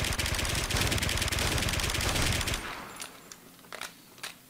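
Rapid automatic gunfire bursts loudly and continuously for over two seconds, then cuts off, leaving a few scattered fainter shots against quieter background.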